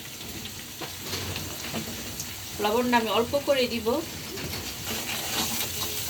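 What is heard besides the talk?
onions frying in a pan with ginger-garlic paste and spices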